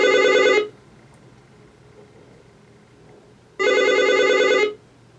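An old-style telephone bell rings twice, loud trilling bursts separated by a few seconds of near silence.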